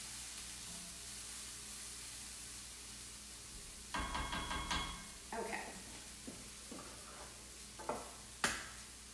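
Onions sauteing in a pan for meatloaf, a steady low sizzle throughout, broken after a few seconds by clattering stirs and scraping of a utensil against the pan, with sharp knocks near the end.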